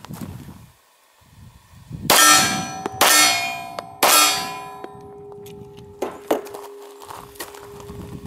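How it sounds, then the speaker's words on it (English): Bullets ring out on a steel target plate with three loud metallic clangs about a second apart, then a couple of fainter pings as the ringing decays, heard from a short distance with no talking. "I want to make sure that the bullet comes out of the barrel, hits the steel plate"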